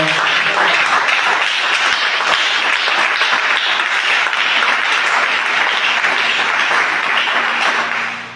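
A church congregation applauding and cheering during a service, dense sustained clapping from a large crowd that carries on evenly for several seconds before tapering at the end.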